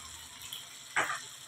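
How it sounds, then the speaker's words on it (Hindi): Warm water splashes and gurgles briefly into a pan of red pasta sauce, a short soft pour against a quiet background. "अब हम जो पानी बचा हुआ था हम उसे ऐड कर रहे हैं इसमें।"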